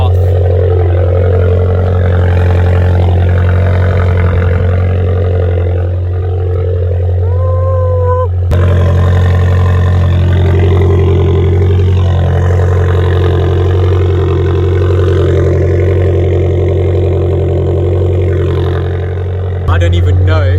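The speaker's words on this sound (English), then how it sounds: "As you can hear, we've got the cold start started on the ABARTH." An Abarth 595 engine idling after a cold start, a loud steady low rumble throughout with a brief blip partway, while someone talks over it.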